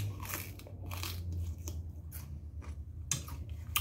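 Someone bites into raw celery and chews it, a few crisp crunches with short breaks between bites, close and fairly quiet.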